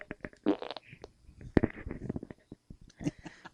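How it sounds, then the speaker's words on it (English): Fart on a podcast, a few short low bursts mixed among chatter and laughter from several people in a small room. "It's the first fart on a podcast."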